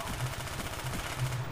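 Fast, continuous machine-gun fire in Call of Duty: Black Ops on PC, an even stream of rapid shots with a low, thumping body and a few heavier bursts, heard alone throughout.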